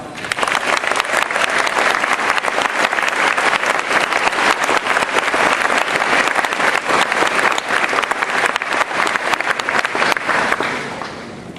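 Loud, sustained applause from a graduation audience greets a student speaker at a QVCC ceremony, a dense wash of clapping that holds steady for about ten seconds before tapering off.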